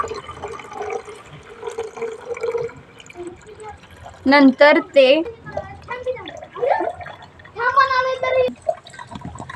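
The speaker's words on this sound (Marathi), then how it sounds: "आपले ठिबक सिंचन तयार झाले आहे त्यानंतर आपण यामध्ये पाणी ओतावे" Water poured into a plastic bottle of a school drip irrigation model makes a soft, trickling fill, heard under a person speaking throughout.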